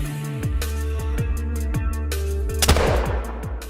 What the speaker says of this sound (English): So gonna take out the muzzleloader and we're gonna go for the hard shot.